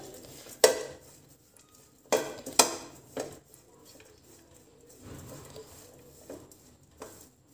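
Dry fruits for a harira are roasted and stirred in a pan, giving quiet scraping with a few sharp clinks of a spoon against the metal, spaced irregularly.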